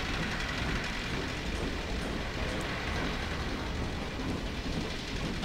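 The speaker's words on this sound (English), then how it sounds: "Trains." Trains in Half-Life 2 rumble in a dense, steady roar of rolling wagons and machinery, continuous and fairly loud with no talking.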